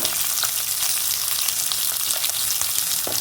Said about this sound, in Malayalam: ഈ ഉള്ളിയിലെ വെള്ളമൊക്കെ ഒന്ന് നന്നായിട്ട് വറ്റി വരട്ടെ